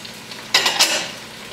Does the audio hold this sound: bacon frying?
yes